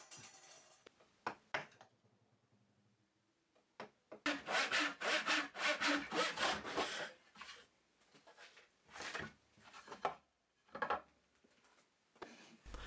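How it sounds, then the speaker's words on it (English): A hand saw cuts a walnut board to length with hand tools, the strokes coming in a dense burst of rapid rasping, then further shorter runs of sawing with pauses between, close and fairly loud. "I mark this up on my walnut and then cut it to length using the usual method."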